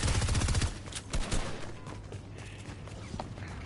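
Rapid automatic gunfire from the Fortnite video game, a dense loud burst of shots in the first second followed by scattered quieter shots and clatter with no voices.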